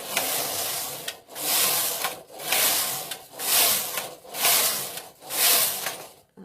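Passap Duomatic 80 knitting machine knitting stocking stitch: the carriage swept back and forth in five long, even rasping passes, each a loud sliding whoosh separated by brief pauses, close and with no talk.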